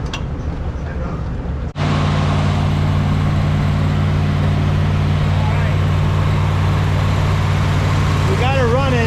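A 1982 Dodge Ramcharger engine catches and runs at a steady, loud, rumbling idle close by, with a quieter stretch before it starts and a faint voice near the end.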